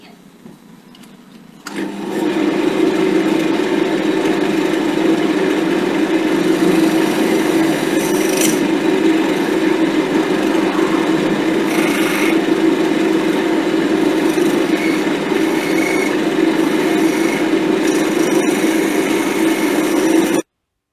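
A wood lathe running with the blank mounted on a faceplate, a steady loud motor and spinning drone with tool-on-wood scraping texture, starting after a brief quiet lead-in and continuing unbroken until it stops abruptly.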